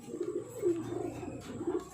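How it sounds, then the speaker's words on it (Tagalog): Soft, low cooing from birds repeats in a steady murmur, a few calls rising slightly louder, with faint background hiss. "ayan, mga ibon natin"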